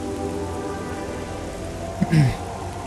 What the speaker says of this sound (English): Is it just me, or does the rain seems to be more intensified, right, in the remaster?